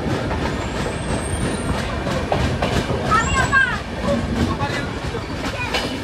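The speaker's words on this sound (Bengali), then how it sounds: "শিয়ালদা থেকে 172 কিলোমিটার পথ চলে আমাদের ট্রেন এখন এসে পৌঁছেছে আহমেদপুর জংশনে" The 13147 Uttarbanga Express rolls along the rails at night with a steady rumbling roar and rhythmic clatter, with a few high squeals and voices faint in the background.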